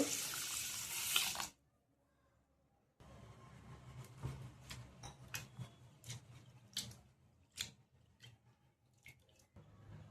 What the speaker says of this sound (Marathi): आपण ही धुवून घेणार आहोत आधी स्वच्छ.